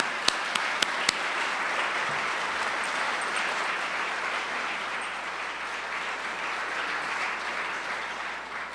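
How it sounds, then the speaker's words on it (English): Audience applause welcoming candidates to their podiums at a Metro Council president debate, a few sharp early claps swelling into steady, dense clapping from a large crowd that continues throughout. "we can give them a hand of applause now"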